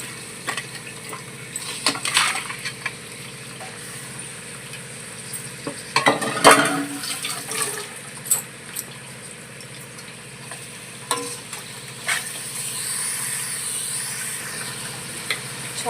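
Ginger paste frying in a pan for mutton curry, a steady soft sizzle with scraping stirs and a few sharp utensil clinks, one louder clatter near the middle.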